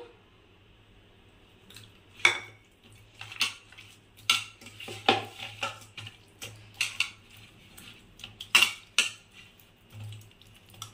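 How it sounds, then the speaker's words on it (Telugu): Pieces of raw fish are mixed by hand with chili powder in a pan for fish fry, giving scattered soft clinks, taps and wet rubbing sounds at an irregular pace against a quiet background. "ఇప్పుడు కొంచెం ఇట్లా మొత్తం పీసుకు పట్టేటట్టు కలుపుకోవాలి"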